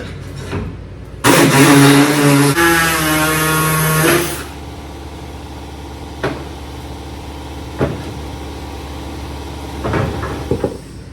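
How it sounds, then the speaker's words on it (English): Pneumatic air saw cutting the corners of a Toyota Tacoma truck bed: a loud, buzzing reciprocating whine for about three seconds, then quieter shop sounds with several sharp knocks and clicks. "Now we will finish the corners with my air saw."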